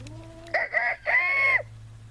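A rooster crows close by in a backyard chicken coop, one loud two-part cock-a-doodle-doo with a sharp break midway, over a steady low electrical hum.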